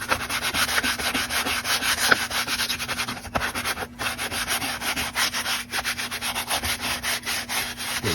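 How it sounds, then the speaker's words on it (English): Steady, continuous scratching of 80-grit sandpaper rubbed back and forth over a plastic dollar-store hockey mask, close and even in level with a brief pause near the middle, no talking. "I'm going to sand over the area that I'm going to be trying to seal"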